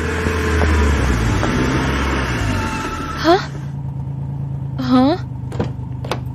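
A car pulls up and stops nearby on a street, its engine rumbling low under background street noise, with a short squeal near the end and people talking over it.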